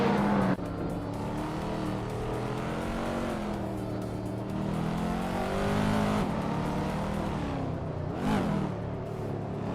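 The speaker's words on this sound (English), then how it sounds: "Nuts has just overtaken Maya to take the lead." Race cars in a racing video game roar past one after another, engines revving and rising in pitch and then fading, loud and continuous, with one sharp whoosh near the end.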